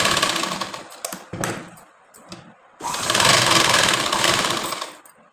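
A sewing machine stitches a blouse in close bursts of rapid mechanical chatter, broken by short pauses and faint handling sounds, no talk.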